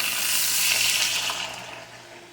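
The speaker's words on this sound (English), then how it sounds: "I'm going to add in some water, about 2 cups." Water poured into a hot skillet of Italian sausage, a steady broadband hiss and rush that swells near the start, then eases off gradually over a couple of seconds.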